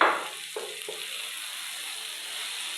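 Water spinach greens are added to a pan of hot oil with reddened onions and sizzle in a steady, close hiss, with a few soft stirring clicks early on.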